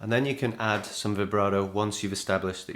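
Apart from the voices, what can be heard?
No everyday noises stand out.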